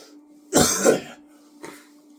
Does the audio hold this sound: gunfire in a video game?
no